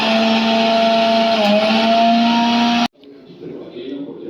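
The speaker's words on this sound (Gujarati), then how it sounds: "આ રીતે આપણે ફુદીનો અને પાલક બંને આપણે મિક્સર જારમાં ક્રશ કરી દઈશું।" A mixer jar crushes fresh spinach and mint leaves with no water added, giving a loud, steady motor whine that cuts off abruptly after about three seconds, followed by quiet room sound and faint voice.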